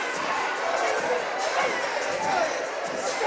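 A basketball crowd in Pruitt Hall roars and cheers steadily through the closing seconds of a tight men's game, a dense wall of shouting voices with no letup.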